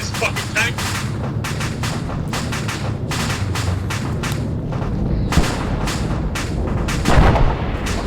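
Tank cannon fire in the military video game ArmA 3, heavy booming shots and rapid gunfire bursts repeating throughout, loud and close, with radio-style voice chat running underneath.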